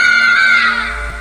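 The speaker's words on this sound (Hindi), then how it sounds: "एक औरत की चिल्लाने की आवाजें सुनाई देती हैं।" A woman's loud, sustained high scream in a horror story sound effect, shrill and wavering, trailing off after about a second with no talking.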